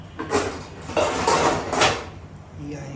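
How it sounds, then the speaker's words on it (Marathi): A metal kadai, a deep frying wok, lifted and set down on a kitchen stove, giving a few close metallic clanks and scrapes over about three seconds with faint background noise. "आता मी कढई घेतो"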